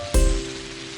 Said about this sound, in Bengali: যা বৃষ্টি হচ্ছে কদিন ধরে